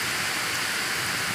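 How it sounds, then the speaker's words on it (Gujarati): Stormy, wind-driven rain falls hard over a village and its farm fields, producing a brief, dense, even wash of hissing noise with no voices. "તોફાની વરસાદ છે આ, કારણ કે પવન પણ ભેગો જ છે આની."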